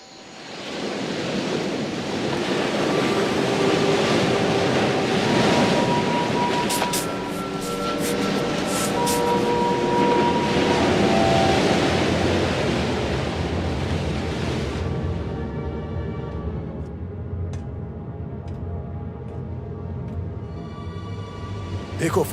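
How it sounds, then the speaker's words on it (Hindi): Strong ocean waves surge and crash in a loud, continuous roar with wind buffeting the microphone, swelling and easing in broad surges throughout. "लहरें काफी तेज हैं"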